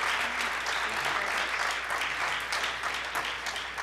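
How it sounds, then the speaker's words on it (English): An audience applauds at a conference talk, a steady wash of clapping from a sizeable crowd that holds for a few seconds without speech. "please give another round of applause for Bob Berkebile."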